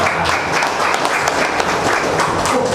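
An audience at an Indonesian anniversary evening gathering claps together in a dense, sustained round of applause, fairly loud and steady throughout with little talk above it.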